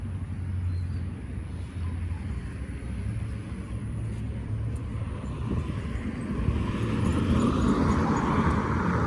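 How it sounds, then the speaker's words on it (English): Buses and cars pass along a wet roadside beside a cemetery in Belize, a continuous low rumble of traffic with a swelling hiss of tyres on wet pavement growing louder near the end, with no speech. "there are buses and cars passing, so I have to walk on the edge here"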